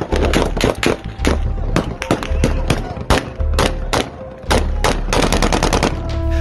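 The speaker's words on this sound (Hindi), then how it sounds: "अचानक फिजा गोलियों की तड़तड़ाहट से गूंज" Rapid bursts of gunfire, machine-gun style, crack loudly and continuously in an armed clash between local villagers and a US troop unit.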